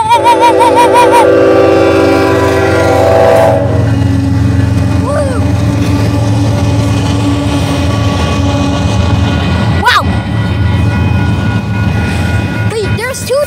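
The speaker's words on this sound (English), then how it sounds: "Here comes the big white train." A Union Pacific freight train rumbles past loudly and continuously at El Paso, its horn blaring in long tones at the start, with people talking and exclaiming over the heavy rail noise.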